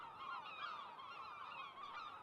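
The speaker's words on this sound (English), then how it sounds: "Herring and lesser black-backed gulls are seen all over the island" Herring and lesser black-backed gulls call on the Isle of May, a steady run of faint, distant honking cries with no voices.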